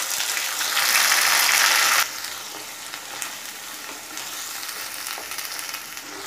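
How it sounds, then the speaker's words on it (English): Onion paste fries in oil for a Bengali rohu fish curry in curd gravy, opening with a loud hissing burst that drops after two seconds to a quieter, steady crackling sizzle, with no voices. "I am going to add this in oil and fry it."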